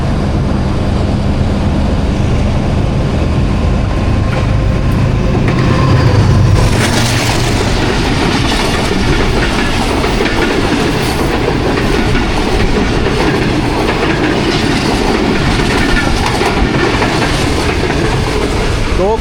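Rawal Express passenger train rolling on the rails between Lahore and Rawalpindi, a loud, steady rumble with rhythmic wheel clatter heard from on board, a brief surge partway through, then a continuous clacking hum.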